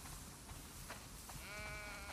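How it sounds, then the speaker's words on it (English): Sheep bleat in The Last of Us Part II, faint and distant, with a drawn-out wavering bleat near the end over a low ambient background. "Wow, that's a lot of sheep."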